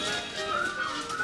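Whistling carries a melodic line within a song from a 1997 Hallmark musical, a bright sustained tone heard moderately loud over the accompaniment.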